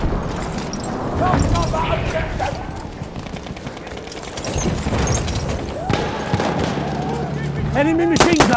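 Enemy machine gun fire in Battlefield 1 rattles amid a dense wartime battle soundscape, sustained bursts and distant blasts layered under chatter and radio-like calls.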